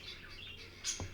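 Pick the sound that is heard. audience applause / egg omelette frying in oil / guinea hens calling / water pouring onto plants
guinea hens calling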